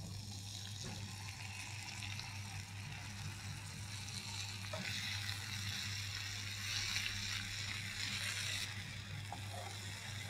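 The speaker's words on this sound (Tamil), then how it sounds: "ஸோ இந்த டைமில் நம்ம கரைச்சி வச்சுருக்க குடம்புளி சாறை இதோட ஊற்றிடலாம்." Garcinia tamarind juice pours into a pan of garlic chutney frying in a home kitchen, giving a steady watery sizzle and splash that runs close and even for about ten seconds, with no voices.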